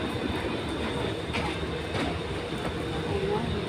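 Steady, continuous rumble and rattle of an MRT train carrying riders toward Changi airport, heard from inside the car with no breaks in the noise.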